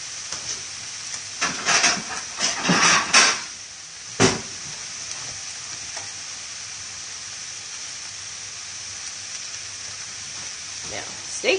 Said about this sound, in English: Saute that for a few minutes.